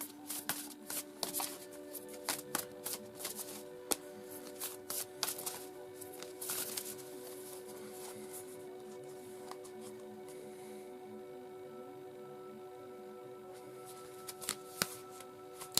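Oracle cards being shuffled by hand, a run of crisp riffling and flicking bursts with quieter gaps, close and fairly soft, no talking.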